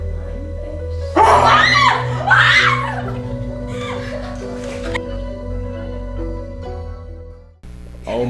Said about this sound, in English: what a lot of screams